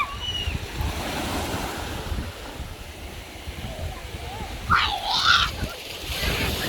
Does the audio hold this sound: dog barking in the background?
no